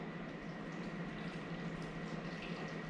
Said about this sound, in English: Water from our kettle.